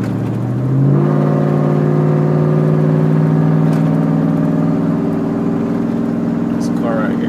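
Chevy Silverado truck engine held at a steady, rising rev under light throttle, a loud sustained drone close by that continues without a break, with people talking over it.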